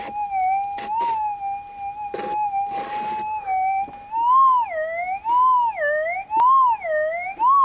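A Minelab GPX 6000 metal detector with an 11-inch coil at highest auto sensitivity over difficult ground at an abandoned gold mine gives a steady whining tone that wobbles and warbles into a target signal, with faint scraping and clicks around it.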